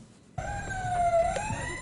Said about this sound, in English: The siren of the toy fire engine is a symbolic warning.